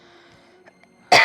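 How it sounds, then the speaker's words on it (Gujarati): A single sharp cough from a person still unwell, loud and close, bursting out abruptly at the end after near silence with a faint background tone. "હજી ખાંસી સારી નથી થઈ"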